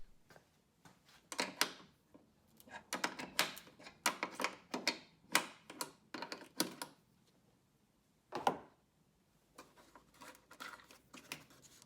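A 13mm wrench working a nut off a Jeep factory latch, with quiet, irregular metallic clicks and ratchet-like ticks in quick bursts, then a pause and a single click before more light tapping.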